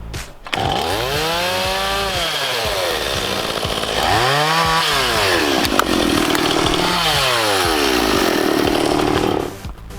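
A loud chainsaw revs up and bogs down repeatedly, its engine pitch rising and falling in three long surges as it bites through a fallen tree across a fire trail.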